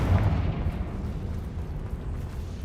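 Confringo spell explosion in Hogwarts Legacy, a deep rumbling boom that starts loud and settles into a sustained low roar for a couple of seconds.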